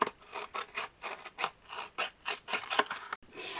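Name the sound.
scissors cutting out a paper teardrop label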